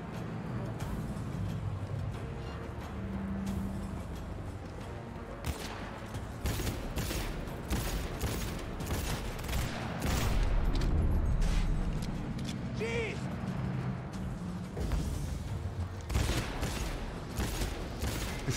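Bursts of gunfire crackle repeatedly through a Cyberpunk 2077 firefight, sharp shots scattered among engine and mechanical noise, with a voice speaking now and then.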